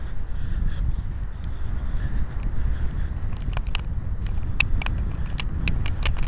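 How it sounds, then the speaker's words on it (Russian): Strong wind buffets the microphone on a beach at Sanzheika, a constant low, blustery roar with scattered faint ticks and rattles throughout. "ветруган дует"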